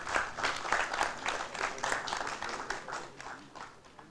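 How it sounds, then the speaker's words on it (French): Audience applauding world champions, including Basile Boli, at a club event: a steady wash of many hands clapping, moderately loud and sustained throughout with no talk over it. "J'aimerais qu'on applaudisse les champions du monde"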